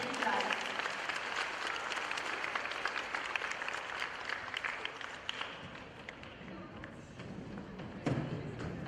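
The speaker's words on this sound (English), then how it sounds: "So let's give them a round of applause." Audience applause at a middle school 6th grade award ceremony, a fairly faint, steady wash of clapping that fades somewhat over several seconds, with some talking underneath.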